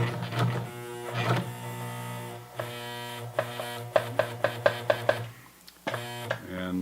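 A Janome HD1000 sewing machine stitches the hem of Levi's 550 denim jeans, a steady close mechanical hum that stalls, then turns to slow, separate thumping stitches as it climbs a thick side seam.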